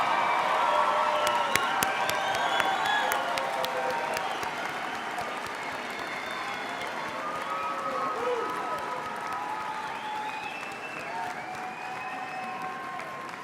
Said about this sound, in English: You have accepted applause from those who love and honor you today.